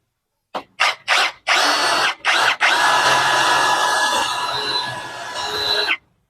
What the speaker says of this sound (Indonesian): Apakah mampu melubangi si besi yang diameter 6 mili